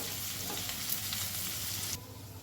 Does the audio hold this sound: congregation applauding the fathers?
no